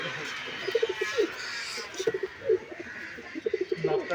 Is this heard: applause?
no